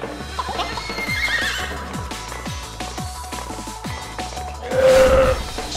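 A horse in the Miitopia video game clip-clops with repeated hoof knocks, then lets out a loud, bright whinny near the end, with no talking.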